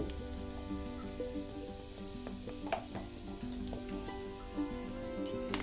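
Asafoetida sizzling in hot oil with a steady crackling fry, close and continuous, as a spoon stirs through with occasional scraping clinks; no talking.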